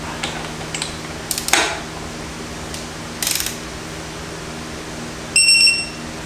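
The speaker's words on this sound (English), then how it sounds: "it does some short beeps when you're getting close, and it gives you a long beep when you've reached your target" Several short electronic beeps from a digital torque wrench nearing its target, then one longer steady beep at target, each mixed with faint mechanical clicking against a quiet hum.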